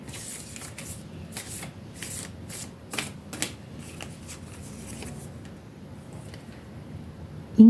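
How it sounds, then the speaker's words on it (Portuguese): Large Astrocartas oracle cards are shuffled by hand before a single card is drawn, a series of close, papery riffling bursts that taper into quieter handling. "eu vou tirar uma cartinha do oráculo Astrocartas pra gente complementar a leitura"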